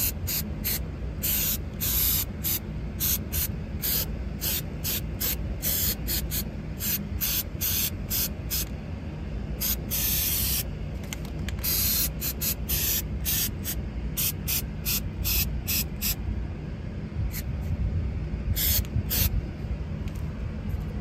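Repeated short bursts of aerosol sealant spraying from a can, some quick and some longer, close and loud over a low background rumble, applied into a condensate drain line.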